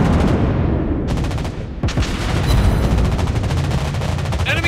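Rapid anti-aircraft gunfire from a Soviet cruiser, the Admiral Makarov, in World of Warships Blitz, a dense continuous rattle of bursts with booming shots, loud and near throughout, with faint game voice callouts mixed in.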